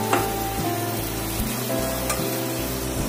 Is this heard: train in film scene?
no